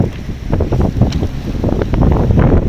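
Strong wind buffets a sailboat at sea west of Darwin, with Timor somewhere beyond, a steady loud roar and microphone rumble running throughout, with no voices.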